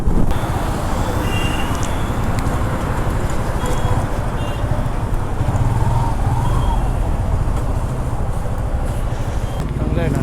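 Dense city road traffic on a straight stretch toward Katraj, heard from a moving motorcycle on a Satara-to-Mumbai ride: a steady, loud rumble of engines and wind noise, with a voice talking over it at times.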